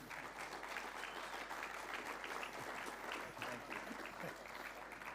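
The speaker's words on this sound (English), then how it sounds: "let's have a round of applause to see how good a job you've done" A crowd at a school event applauds in a steady, even wash of many clapping hands, moderately distant and sustained for the whole stretch with no talk over it.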